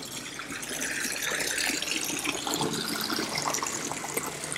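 Water flowing steadily over a backyard waterfall feature at a modern desert home in Las Vegas, a continuous close rushing splash that fills the whole stretch without pause.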